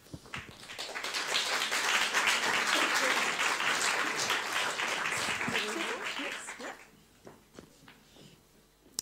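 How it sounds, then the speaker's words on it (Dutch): A debate audience at a Women's March event gives the speakers a big round of applause, swelling quickly into loud, sustained clapping, then thinning out and fading after about six seconds into scattered claps and quieter sounds. "Ik geef ze een heel groot applaus"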